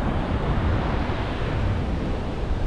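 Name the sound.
wind blowing on the Yorkshire coast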